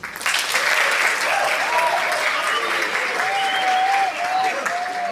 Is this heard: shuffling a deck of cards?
no